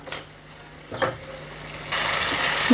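Tomato and onion masala stirred in a pan, a couple of soft scraping strokes followed by a steady, louder sizzle of frying.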